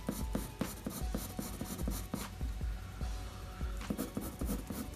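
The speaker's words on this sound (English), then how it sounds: "Just take your pencil and just put some strokes in here like this." Quick repeated pencil strokes scratch across paper while a beard is sketched onto a drawing of Aquaman, a steady series of close, crisp scribbles with brief pauses between bursts and no speech.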